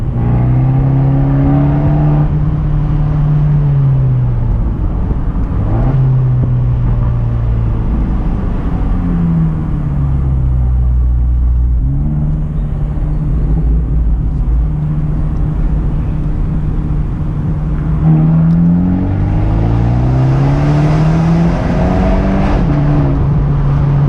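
An Abarth 124 Spider's exhaust drones loud and close throughout, its engine note climbing and falling as the car accelerates and revs through the gears, with no talking over it.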